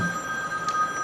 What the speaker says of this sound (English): Somebody forgot to turn off his phone